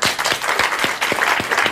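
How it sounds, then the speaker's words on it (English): Light applause of a few hands clapping in a small home setting, quick scattered claps over a couple of seconds, close and moderately loud. "give him a round of applause."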